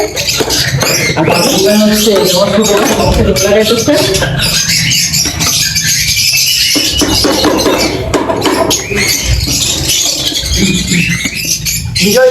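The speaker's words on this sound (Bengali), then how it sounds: "পাখিগুলো ওই যে ডিম দেওয়ার সময় হয়েছে এত পরিমাণ চেঁচামেচি করতেছে" Lovebirds and cockatiels in an aviary during breeding season, a dense, continuous chatter of shrill chirps and screeches close by and loud throughout.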